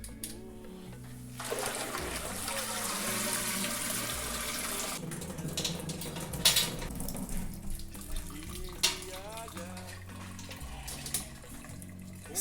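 Wort pours and drips from a lifted grain basket during the mash for a British Golden Ale, a steady splashing trickle of liquid falling back into the kettle, soft and close with some background noise.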